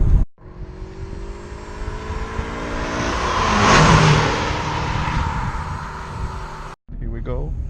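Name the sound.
Mitsubishi Lancer Evolution 4 rally car accelerating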